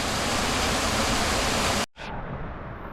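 A waterfall just off the side of highway 75 roars as loud, dense broadband rushing water, close up, with the sound cutting out briefly and returning more muffled.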